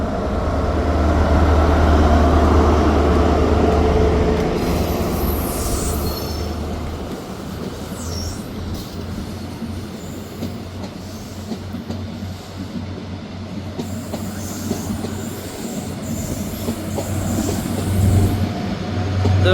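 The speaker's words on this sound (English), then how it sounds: "departing out at the same time is the 1545 Scotrail service from Glasgow Queen Street to Aberdeen" Scotrail passenger train with power car 43150, the 1545 Glasgow Queen Street to Aberdeen service, departing Montrose station: a loud low diesel engine roar and clattering wheels with squeals as it pulls away nearby.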